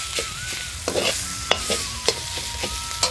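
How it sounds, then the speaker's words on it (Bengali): A vegetable chop mixture of crushed nuts and grated potato stirred in a hot pan, with a steady sizzle and repeated sharp scrapes and taps of the spoon against the pan at an uneven rhythm, close up. "দিয়ে সবগুলোকে আর একবার ভালো করে মিশিয়ে নেব।"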